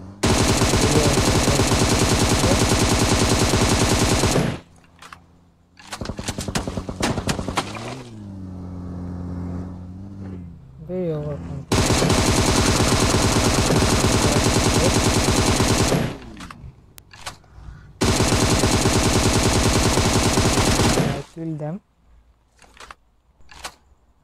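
M16 rifle gunfire in PUBG Mobile: three long, loud, sustained bursts of automatic fire, with short broken shots and quieter game sounds in the gaps between them.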